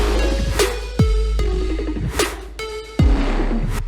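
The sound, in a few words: festival trap drop made in Ableton Live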